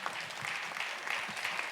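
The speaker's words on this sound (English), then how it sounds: "How about a round of applause for Max Colley?" A jazz concert audience applauds, a dense continuous wash of many hands clapping together, steady and moderately loud from a crowd at some distance, with no talk over it.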